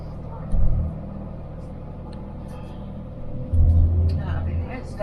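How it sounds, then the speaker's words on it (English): Water truck number 20 rumbles past on a mine road, a low engine drone swelling twice as it passes nearby, with a person talking over it. "that's a water truck"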